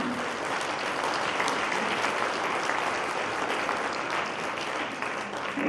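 Sustained applause from an audience at the opening night of a cultural season, dense steady clapping filling the whole stretch at an even level without letting up.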